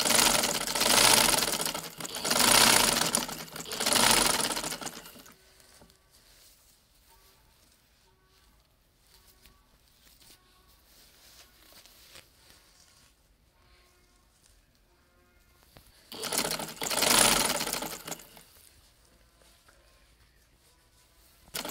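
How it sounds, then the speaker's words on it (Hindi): A sewing machine stitches lace along the embroidered edge of a kurti in two loud bursts of rapid, steady whirring, separated by a long quiet stretch of faint handling. "ये एम्ब्रॉयडरी के साथ साथ हम सिलाई करेंगे इसकी"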